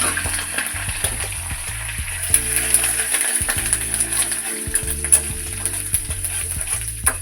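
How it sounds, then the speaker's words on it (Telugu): Curry leaves and dried red chillies fry in hot tempering oil for a tomato and fenugreek-leaf chutney, giving a steady close crackling sizzle broken by stirring clicks from start to end. "కరివేపాకు ఎండుమిర్చి ఇవి వేసుకుని ఫ్రై చేయాలన్నమాట"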